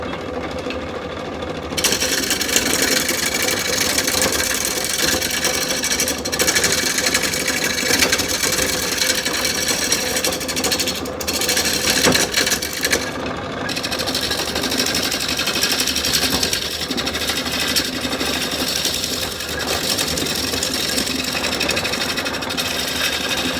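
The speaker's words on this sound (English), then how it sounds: "I've got it on a slow speed right now, so I didn't want it to shake the lathe apart." Continuous steady whir and rumble of a wood lathe turning a bowl blank of soft, partly rotted wood at slow speed, loud and close with no break.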